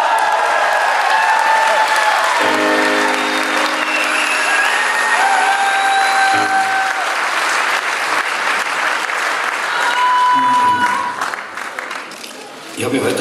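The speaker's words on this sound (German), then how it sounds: "Applaus." A ballroom audience at the Karl Valentin order award gala applauds warmly, a loud, continuous wash of many hands that carries on under tonal sounds before tapering off near the end.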